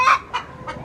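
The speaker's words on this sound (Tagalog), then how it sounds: "Ayaw tumigil ng manok." A chicken at a provincial Philippine home gives three quick, loud clucks in a row, close by and clear, with no talk over them.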